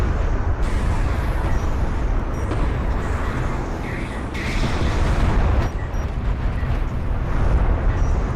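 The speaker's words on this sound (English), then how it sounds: "The army of Mazrym walking through a lot of barrages" Artillery barrages pounding an advancing army in a real-time strategy game, a continuous roaring wash of explosions and rumbling impacts, loud and dense with no pauses.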